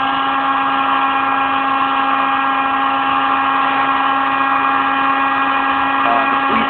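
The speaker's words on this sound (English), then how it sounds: "The sweet sound of air brakes and heat guns." Steady workshop machine noise, a constant hum with high tonal whine and broadband hiss, consistent with heat guns and air equipment running in a fabrication shop, loud and continuous throughout with no talking.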